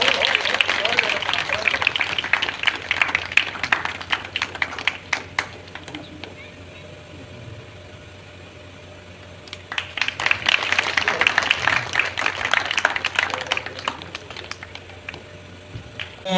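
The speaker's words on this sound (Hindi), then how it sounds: "करताली हो जोरे" Audience clapping at a religious discourse, two bursts of brisk clapping separated by a quieter pause in the middle, moderately close, with a voice speaking over it.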